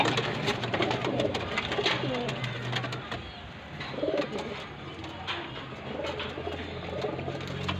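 Pet pigeons coo in low, repeated, throaty rolls close by, with rustling and faint patter underneath and a person talking intermittently over them.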